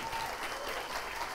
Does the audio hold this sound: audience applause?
yes